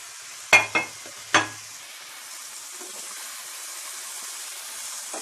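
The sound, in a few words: makhana (fox nuts) frying and stirred in a pan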